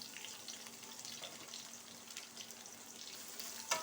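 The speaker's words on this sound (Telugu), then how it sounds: "జీలకర్ర, ఎండుమిర్చి, పచ్చిమిర్చి, ఆనియన్స్ వేసేస్తున్నాను." Cumin, dried and green chillies, and onions sizzle softly in oil in a home kitchen. The frying is a faint, even crackle with a small clatter near the end.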